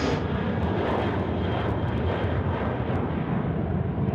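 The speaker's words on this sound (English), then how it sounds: "I don't mind the departures here from this perspective, Brendo." A departing airplane at Sydney Airport, its engines roaring as a loud, steady broadband rumble heard from nearby, with no voices.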